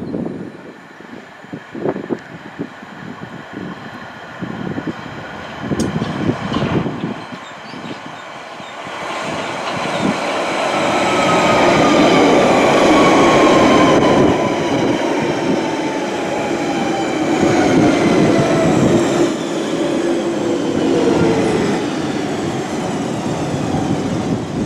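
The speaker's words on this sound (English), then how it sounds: "we're just waiting for a Central Line train now to take us to Bond Street" A London Underground Central Line train arrives at a station, its rumble rising from quiet clatter to a loud, sustained roar with long squealing wheel tones and rattling, no talk over it.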